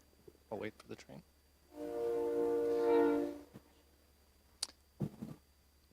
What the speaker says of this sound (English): I'll wait for the train.